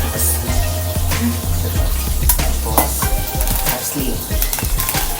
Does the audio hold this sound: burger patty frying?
yes